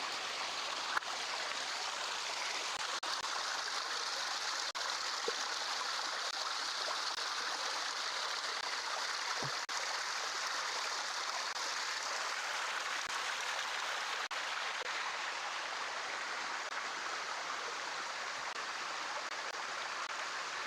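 Steady broadband rush of stream water flowing near a hidden waterfall, continuous and even throughout with no talking, a close, constant wash of moving water.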